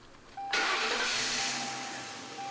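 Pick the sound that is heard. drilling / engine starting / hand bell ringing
engine starting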